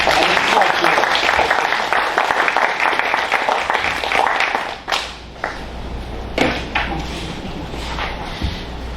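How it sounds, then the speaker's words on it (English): An audience at a real estate event applauds with a dense round of clapping that fades after a few seconds. Scattered claps and thumps follow, with people talking in the room. "Let's give them a round of applause."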